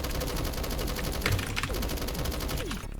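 Rapid automatic fire from an AK-12BR rifle in a first-person shooter video game rattles on continuously in fast repeated bursts, loud and close, with overlapping shot reports and no pause until the clip ends.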